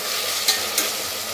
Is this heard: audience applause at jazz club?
no